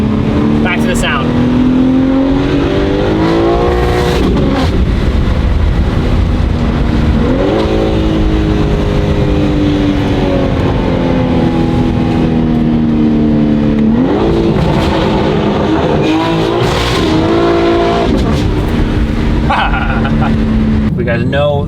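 A BMW G80 M3 fitted with a Valvetronic midpipe and 400-cell downpipes revs and pulls through gears loudly up close, its engine note rising and falling repeatedly, with a voice talking over it.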